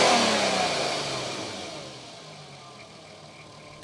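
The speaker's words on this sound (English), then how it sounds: "Let's give it a little rev and see." Audi TT with a V6 engine revving once, a loud rising and falling roar that fades to a steady idle over a few seconds.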